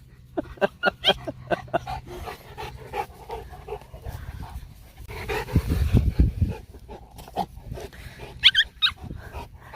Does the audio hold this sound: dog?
yes